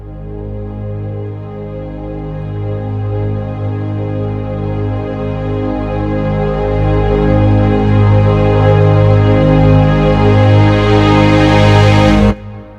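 A wide orchestral string chord sustains from the UVI Augmented Orchestra sample library, spread across cellos, violas and violins. It swells loud and dense before cutting off cleanly near the end.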